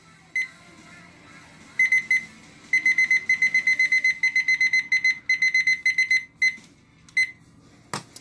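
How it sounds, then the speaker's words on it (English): An oven timer beeps in a kitchen during cookie baking, sounding rapid high-pitched chirps in repeated clusters, close and clear, then trailing off into a few scattered beeps. "we're going to set the timer"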